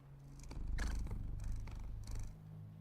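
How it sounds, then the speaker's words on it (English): A contented cat held close to the microphone purrs in a soft, rhythmic rumble with steady breathing pulses, near and intimate, with no talking. "Listen to that purr into the microphone."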